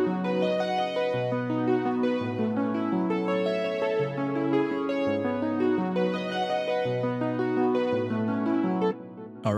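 A synth line played on Logic Pro X's EFM1 FM synthesizer in a modern kompa and Afrobeat production, bright plucked tones in a rhythmic melodic pattern over sustained harmony, clear and alone, no talk.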